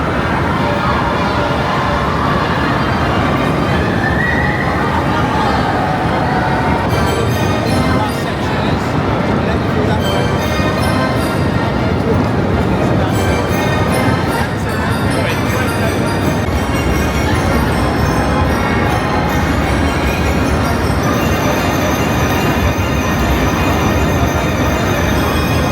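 The Derby Racer carousel at Blackpool Pleasure Beach runs at speed, a loud, steady rumbling roar of machinery and rushing air that continues unbroken, with people talking and calling out over it.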